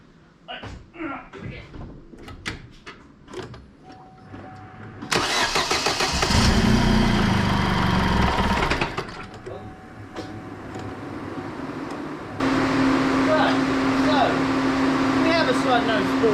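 A Vauxhall Insignia with a recently repaired cam rocker cover oil leak cranks and fires into a loud, close idle, which later steps up to a higher steady hum; a person talks before the start.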